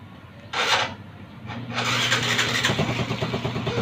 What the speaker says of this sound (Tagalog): yung pag-start at pagpatay ng makina talaga generally, remote ang magpapa gana.